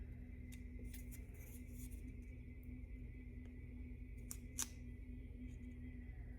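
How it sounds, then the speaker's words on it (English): Several faint, crisp snips of scissors cutting giant-scale P-51D model aircraft control surfaces come at irregular intervals over a low, steady background hum. "simply take some scissors and get as close as you can to the edge"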